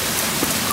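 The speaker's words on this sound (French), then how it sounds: "Il pleut un peu moins, ça fait du bien." Rain falling on a mountain trail on Piton des Neiges, Réunion Island: a steady, dense hiss of drops fills the air evenly, with no distinct voices.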